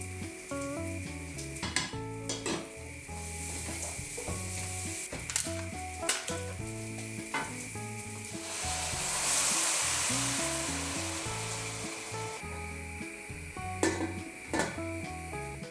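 Lentils and frozen meat stock sizzle and fry loudly in a hot pan, a steady crackle with intermittent clinks and scrapes of stirring against the cookware.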